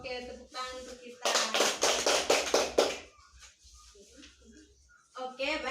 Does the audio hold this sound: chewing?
no